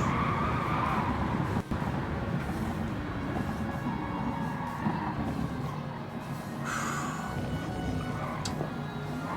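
A Lancer Group 4 race car in Gran Turismo 7 at Road Atlanta, its engine droning loudly and continuously up close, with tire noise and a brief shift in pitch partway through.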